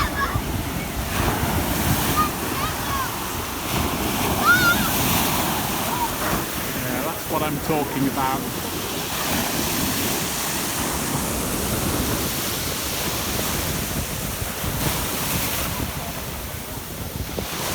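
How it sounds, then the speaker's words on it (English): Sea waves break on Gorleston beach in the UK, a continuous near wash of surf with surging swells, mixed with wind buffeting the microphone, and a person speaks briefly. "the waves kind of knock you off your feet once you try to get in here"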